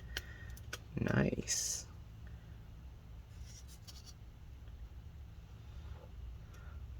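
Tin snips cut through a laptop part during a disassembly, giving one short crunching snip followed by a sharp click. A voice speaks briefly, and the room is otherwise quiet.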